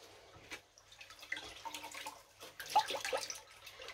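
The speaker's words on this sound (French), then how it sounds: "on va venir rincer" Clear water rinsing a cooled, freshly dyed yarn skein in a sink: faint splashing, trickling and dripping with soft sloshes, close by and quiet, with no talk.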